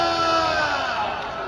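A crowd at a cricket match in Al Noor Stadium, Noorpur Thal, Khushab, cheers and shouts in a loud, dense burst that continues without a break through the short moment.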